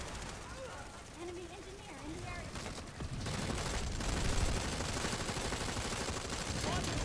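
A gun is hip-fired in Planetside 2 on PS4, a dense stream of rapid automatic shots that grows louder and steadier partway through, while someone talks over the start.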